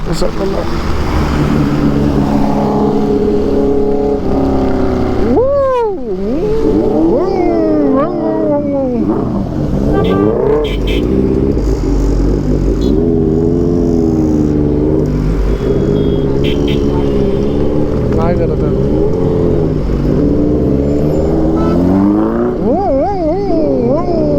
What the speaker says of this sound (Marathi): आता बरीच ट्रॅफिक आहे